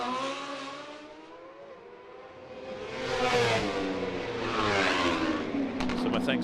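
Superbike motorcycles, many on BMW M1000s, race through a corner at the Macau Grand Prix street circuit, engines droning and rising in pitch as they pass, loud and continuous with overlapping machines across the whole stretch.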